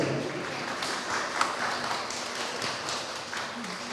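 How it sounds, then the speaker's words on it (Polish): Audience applauding the winner at a regional food contest final, a faint, steady patter of many hands clapping at a distance, with a voice talking over it. "wielkie brawa dla Zuzanny z Rośla"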